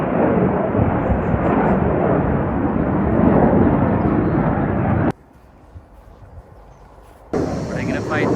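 An airplane passes near an airport by an old castle in Lincolnshire, a broad, loud rumbling roar that holds for several seconds, then drops away abruptly to quiet before ambient sound returns.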